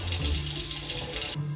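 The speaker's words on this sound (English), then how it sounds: "Running water, one of life's" Water runs steadily from a tap in an RV tiny house, a close, hissing, continuous flow that changes tone briefly near the end.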